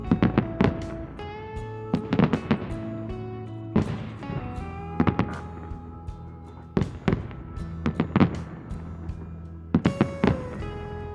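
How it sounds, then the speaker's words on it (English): Victory Day fireworks burst over the Peter and Paul Fortress in Russia: repeated loud booming detonations, some in rapid clusters and others spaced a second or two apart, each followed by a crackling, rumbling decay, with no talking. "You feel like it is blooming and bursting in the sky right above your head."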